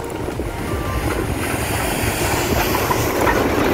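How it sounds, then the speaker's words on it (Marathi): A road sweeping machine works a dusty village road under construction, giving a loud, steady mechanical rumble and broad brushing roar that runs without a break throughout, with no voices. "रस्ता साफ करायचं मशीन आहे"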